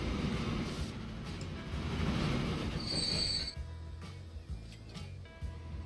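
Train rolling along the tracks in the video game Transport Fever, a steady loud rumble of wheels on rails with a high metallic wheel squeal rising midway and clicking joints toward the end.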